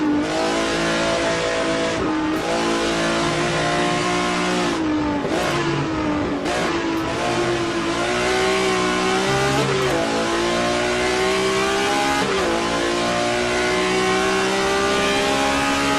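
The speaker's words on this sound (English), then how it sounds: "Switching to Ross Smith's on board in the number 0 BMW M1 Group 5" Onboard engine of the number 0 BMW M1 Group 5 race car in a virtual historic sportscar race at Road Atlanta, a loud continuous high-revving roar with rising and falling pitch through gear changes, heard alone.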